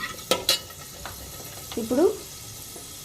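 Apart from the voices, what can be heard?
fenugreek seeds frying and stirred in hot oil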